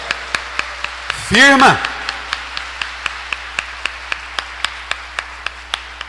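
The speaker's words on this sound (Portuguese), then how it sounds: "Pode dar uma salva de palmas para Ele?" A congregation at a Sunday Mass claps in steady unison, sharp evenly spaced claps in a regular rhythm that run through the whole stretch, with a brief voice calling out near the start.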